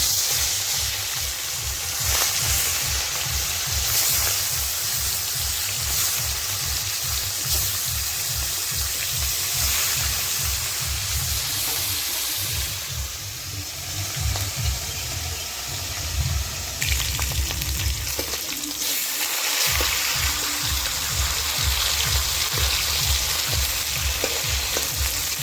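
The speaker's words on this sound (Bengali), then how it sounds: "এখন মাছগুলো ভেজে নিব।" Pieces of fish, coated in salt and turmeric, frying in hot oil in a wok, with a loud, continuous sizzle and crackle punctuated by rhythmic stirring and scraping throughout.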